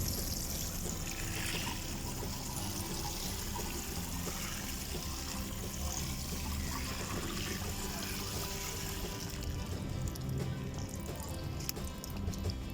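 Water pours and trickles steadily onto dry garden soil for a radish planting bed, a continuous close splashing wash with no pauses.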